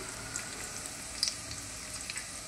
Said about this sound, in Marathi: लसूण आपला चांगला क्रिस्पी होऊ द्यायचा आहे आपल्याला।